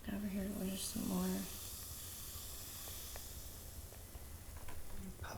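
A vinegar-like mixture fizzing and bubbling on top of shaving cream, a soft continuous hiss with faint pops, a brief voice near the start.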